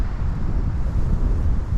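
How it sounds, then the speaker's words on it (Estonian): Steady wind blows across a bog lake while fishing, buffeting the microphone with a loud, constant low rumble and no other sounds standing out. "Tuul on nagu ikka jälle täpselt järve poolt."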